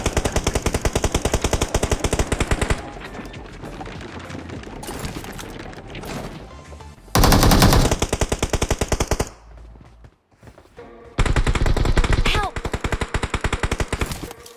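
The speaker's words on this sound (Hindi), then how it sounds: "यहाँ आसपास पे एक और प्लेयर होता है जो यहाँ पे M4 चला रहा था" Rapid bursts of M4 rifle fire in BGMI PUBG Mobile ring out loud and close, broken by short pauses and a quieter passage before the fully automatic fire resumes.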